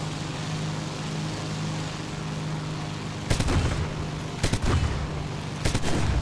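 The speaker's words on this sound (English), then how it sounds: "30 mil sound great though" Aircraft-mounted 30 mm cannons fire in War Thunder as several short, heavy bursts over a steady engine drone, the first longer burst followed by two quicker ones.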